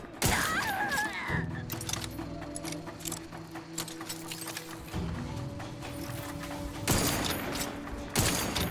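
Gunfire in The Outer Worlds 2 sounds as a string of sharp, rapid shots and mechanical clatter, with bursts recurring over a low humming background.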